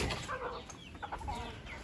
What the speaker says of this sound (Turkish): iki horoz iki tavuk kaldılar